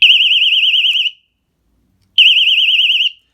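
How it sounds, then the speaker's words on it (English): A small mini door alarm sensor emits two loud, shrill warbling beeps, each about a second long, separated by a short silence. "This is the alarm that sounds when it opens and then closes."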